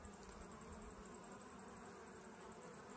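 Honeybees fly at a beehive entrance in an apiary, giving a steady, dense buzzing drone that holds evenly throughout with no voices.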